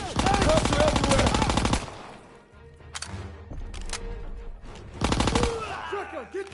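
Gunfire in the World War II shooter Call of Duty WW2, a loud rapid machine-gun burst followed by sparse single shots and a second burst, with shouting voices between.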